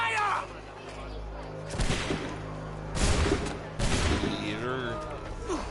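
Musket volley from Assassin's Creed 3, set in the Revolutionary War: several loud, cracking volleys at intervals, mixed with game voices talking between and over the shots.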